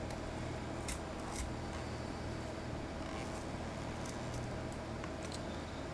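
Scissors snip close-up through the casing of a Seagate FreeAgent Go 2.5-inch external drive, giving several sharp cutting clicks over a steady background hiss.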